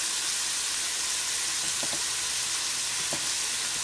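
Chicken frying in a pan for a spring roll filling, giving a steady, loud sizzle with a few faint clicks of stirring.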